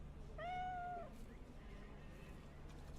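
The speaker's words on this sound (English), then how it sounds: "Pet the cat." A cat in the video game Cyberpunk 2077 lets out one clear, drawn-out meow lasting about a second, fairly quiet over a low steady game background, followed by a faint trailing sound.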